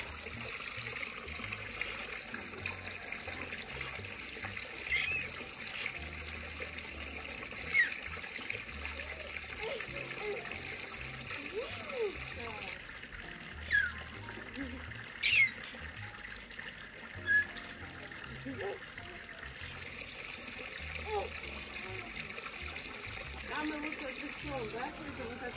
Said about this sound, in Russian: Полил тут двор водой, чтобы было прохладненько.